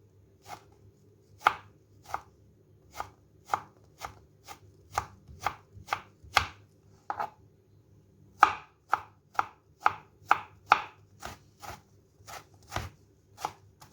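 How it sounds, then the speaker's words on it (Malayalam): Sharp knife strikes on a cutting board chop eggplant into small pieces in a quick, steady rhythm, close and clear, pausing briefly midway before resuming. "അരിഞ്ഞ് നമുക്കിതുപോലെ ചെറുതായിട്ട് അരിഞ്ഞെടുക്കണം"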